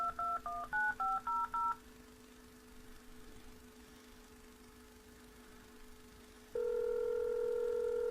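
A rapid run of telephone keypad dialing tones, crisp and close, then a quiet hum with faint car engine idling, ending in a loud steady tone on the line.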